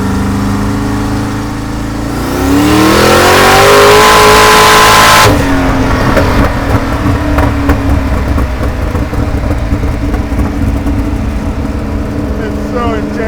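A fast car accelerates hard with its tires spinning. The engine note climbs to a loud, rising roar, breaks off with a sharp shift, then settles into a steady, rough drive. A person speaks over the engine.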